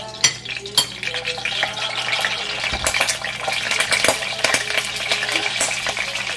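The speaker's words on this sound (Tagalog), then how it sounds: "Maglalagay rin tayo ng 1 kutsarang butter." Goat feet cook in a pan with butter, giving a close, busy sizzle and fry broken by repeated utensil clinks and stirring scrapes against the pan.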